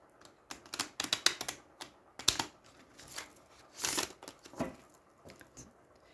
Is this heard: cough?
no